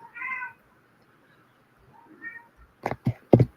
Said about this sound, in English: I kind of love the sound of cats meowing like that.